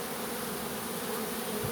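A honeybee swarm pours out of a hive in poor weather, a dense, steady buzzing hum of many insects that fills the whole stretch evenly and close by.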